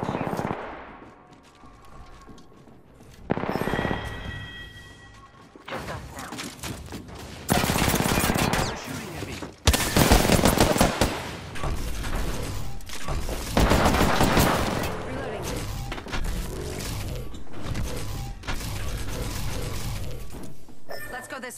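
Bursts of gunfire from the video game Apex Legends: sustained rattling automatic fire and sharp cracks come in loud clusters across a busy in-game soundscape, with voices heard among them.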